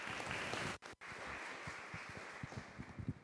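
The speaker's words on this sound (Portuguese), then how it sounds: "Gente, palmas agora." An audience applauds at the opening lecture of a biomedicine course, a continuous wash of many hands clapping, heard faintly and from a distance, broken by two very brief dropouts.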